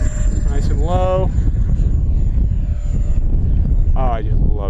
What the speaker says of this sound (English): Oh, I just love this airplane.